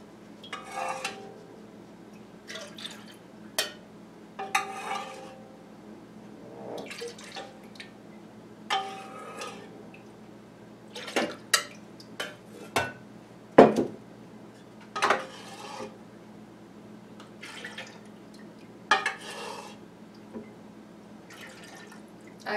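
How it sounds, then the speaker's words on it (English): Melted candle wax being scooped out of a kettle into a pitcher for jar candles, heard as scattered metallic clinks, scrapes and drips, close and moderately loud with no talking. "We're going to scoop up some more wax into my pitcher."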